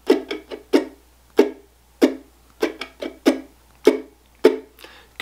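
Muted ukulele strings strummed in a thumb-roll triplet rhythm, crisp percussive chunks in clustered groups repeating steadily, close and clear with no voice.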